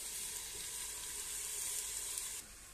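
Potato and eggplant sabzi with tomatoes frying under a lid over a medium flame, a soft continuous sizzle and hiss that stays even, then drops off slightly just before the end.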